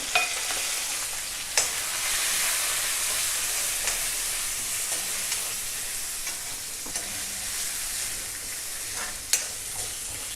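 Grated ginger, curry leaves and green and dried chilies sizzle in a pan with a steady, loud frying hiss, broken by occasional clinks of stirring and no talk.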